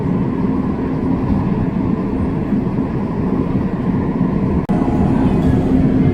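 A Chicago CTA Orange Line train bound for Midway rumbles along the track, a steady, loud interior roar with rattling carriage noise and a sharp click near the end.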